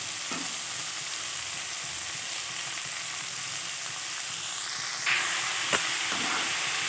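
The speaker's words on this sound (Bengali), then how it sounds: "এবার আমি বেতো শাকটা দিয়ে দেবো।" Beet greens hitting a pan of frying vegetables, a steady close hiss and sizzle with a brief stirring clatter and a louder burst of sizzle near the end, no talk.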